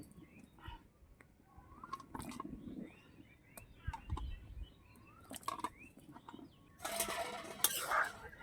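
A lid clinks down onto a pot of dal with bottle gourd pieces, a few sharp metallic knocks near the mic among faint kitchen clatter, with birds chirping in the background.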